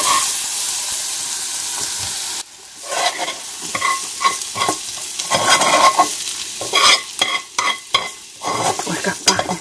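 Carrots and onions hit a hot pan with a loud, steady sizzle. It then drops to softer frying under repeated scraping and stirring strokes, close by.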